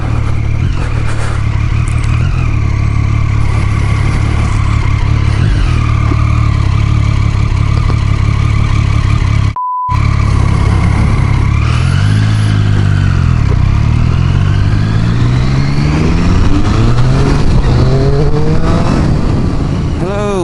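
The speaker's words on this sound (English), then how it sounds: "doing a live ride review of the Triumph Street Triple R" 2014 Triumph Street Triple R motorcycle being ridden, its engine droning loud and close throughout with rising and falling revs under heavy wind noise, including a quick run of up-shifts near the end.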